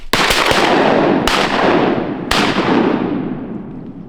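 A shotgun blasts three times while duck hunting on public land, loud close reports each followed by a long fading rumble across open country.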